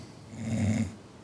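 A single low, rasping snore, one drawn breath that swells and fades, close by and alone in a quiet room.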